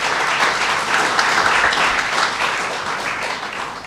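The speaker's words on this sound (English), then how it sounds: "Can I have a round of applause for our partner?" A crowd applauds with dense, sustained clapping that holds steady, then begins to thin toward the end.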